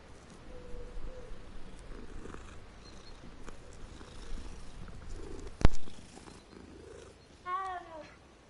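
A cat in Hogwarts Legacy purrs softly while being petted, a faint low rumbling over quiet game ambience, with a sharp click partway through and a brief chirping bird-like call near the end.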